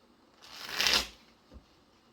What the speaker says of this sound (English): Let's go ahead and get into some tarot.